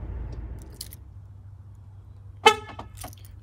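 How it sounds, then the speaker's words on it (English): A 2013 Volkswagen Jetta locks with a short horn chirp and mechanical clunk, a single sharp confirmation sound over a low idling hum, preceded by a faint click. "I'm gonna lock the car"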